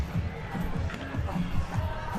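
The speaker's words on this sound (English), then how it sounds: "this is one of the loudest crowds I think I've heard in Banana Ball" A loud crowd roars and cheers throughout at a Banana Ball baseball game, a dense continuous swell of voices with a commentator talking over it.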